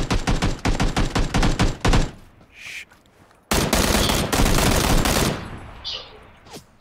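Rapid automatic gunfire bursts in PUBG, a dense stuttering volley for about two seconds, then a pause and a second sustained burst of shots, with a faint voice nearby.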